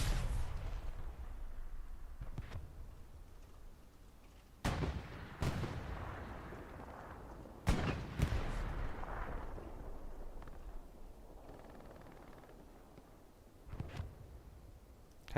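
Grenade explosions in Hell Let Loose, World War II combat at Elsenborn Ridge, several sharp blasts and distant gunshots spaced over a low rumbling battlefield background.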